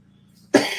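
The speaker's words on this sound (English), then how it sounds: "Excuse for the cough." A single sharp cough from a man, close and abrupt, breaking out of near silence.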